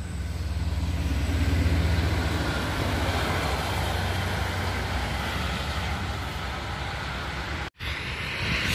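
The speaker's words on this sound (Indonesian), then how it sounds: "Di belakangnya lagi ada bus pariwisata." Another tour bus rolling past on the Trans Java toll road, a loud sustained roar of engine and tires peaking early and easing into a continuous roadway rumble, briefly cut out toward the end.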